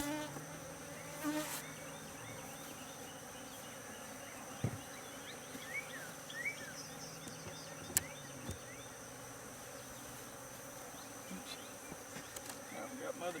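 Honeybees in a disturbed hive box during an inspection hum in a steady, dense drone that holds throughout, with a few light knocks and clicks of handling on top.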